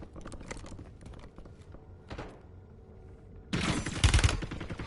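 Enemy gunfire in the Warzone battle royale video game, scattered faint shots early on, then a loud dense burst of rapid automatic fire near the end.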